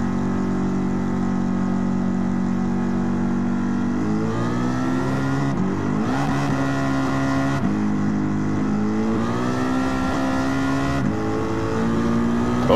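In Gran Turismo 7 online racing, a Dodge Hellcat Charger and other game car engines rev and roar continuously, climbing through gears with several upshifts, loud and close with no talking.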